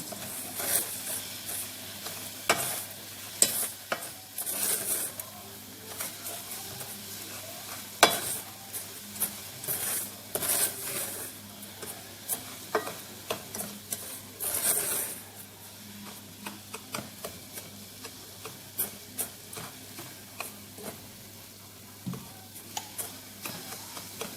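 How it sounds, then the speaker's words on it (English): A spoon stirs and scrapes through asaana, a Ghanaian caramelized corn drink, simmering in a pot, giving irregular clacks and scrapes over a soft bubbling hiss; close and moderately quiet, with no talking. "Just for consistency, I like to stir it myself"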